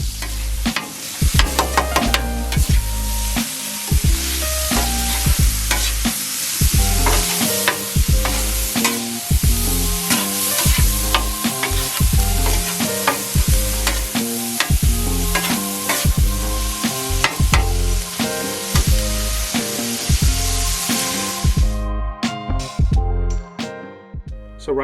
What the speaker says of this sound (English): So basically all you want to do is get your ground beef cooked, fully cooked, and then I'm going to blend it with the onions.